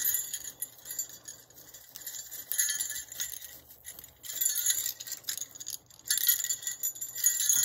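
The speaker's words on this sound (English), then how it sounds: "So I'll knot those two bells together." Two small metal bells jingle and clink faintly while being knotted together with string for a farmhouse-style Christmas decoration, producing scattered light tinkles and chinks with brief pauses between handling sounds.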